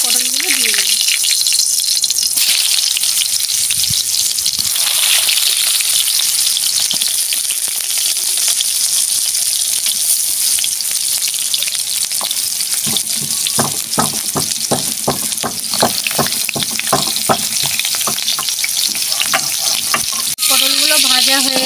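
Pointed gourd paturi fries in a pan with a steady loud sizzle throughout, broken by clusters of clinks and scrapes from handling, and a voice speaks at moments.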